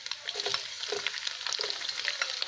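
Mustard seeds and garlic fry in a hot pan, a continuous crackling sizzle with scattered pops and the scrape of stirring, close and steady, no speech.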